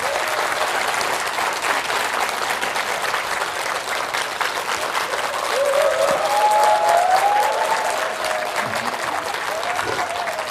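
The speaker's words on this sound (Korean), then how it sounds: "그렇다고 생각하시는 분 박수 한번 주시죠" A lecture audience bursts into steady applause, many hands clapping in a dense even wash, with a faint tonal voice or whistle gliding through the middle and brief murmurs near the end.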